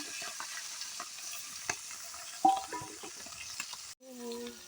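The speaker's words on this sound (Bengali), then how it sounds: "তেলটা গরম হয়ে গেছে গা মাছটা দিয়ে দিই" Fish frying in hot oil, with a quiet, steady sizzle and a few soft pops and stirring clicks nearby, and a short burst of voice near the end.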